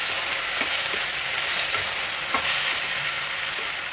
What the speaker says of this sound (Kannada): ಈ ಟೊಮೆಟೊ ಎಲ್ಲ ಆಲ್ಮೋಸ್ಟ್ ಕರಗಿ ಸ್ಮ್ಯಾಶ್ ಆಗುವಷ್ಟು ಬಾಡಿಸ್ಬೇಕು